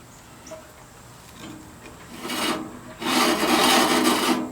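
A Porter Cable bandsaw blade, fitted with a riser block for resawing logs, rubs in brief rasping bursts that grow louder and longer, ending in a sustained close scraping hiss.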